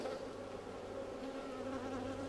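Honey bees drone steadily and densely at close range during a farm hive inspection, a continuous buzzing swarm with no speech over it.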